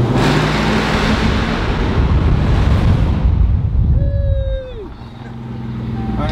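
A Ram R/T truck fitted with new headers and exhaust roars loudly under a bridge, a dense, echoing exhaust rumble that swells for about four seconds before dropping away to a lower drone, while a brief tonal whine sounds as it eases off.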